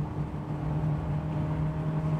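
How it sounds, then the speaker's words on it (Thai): DFSK Glory i-Auto seven-seater's exhaust under acceleration, heard as a steady, low, droning rumble from inside the cabin, continuous and moderately loud with no talk. "พอกดคันเร่งนี่เสียงท่อนี่ผมได้ยินชัดมากเลยนะเสียงข้างหลังอ่ะ"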